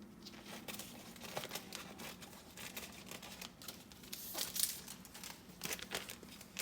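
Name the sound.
scissors cutting plastic piping bag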